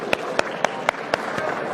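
A few people clap for Brazilian federal congressman Pedro Lucas, six sharp, evenly spaced claps over a noisy room background.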